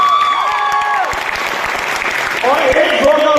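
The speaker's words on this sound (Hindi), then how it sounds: "एक बार जोरदार तालियां दो" Applause rises from the audience at a network marketing event, loud and close, while tonal music or a tune plays over the clapping and a voice briefly cuts in near the end.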